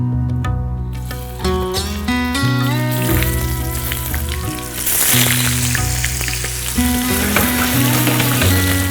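Paneer frying in a pan for a wedding-style shahi paneer masala, a steady sizzle running the whole time beneath loud sustained music.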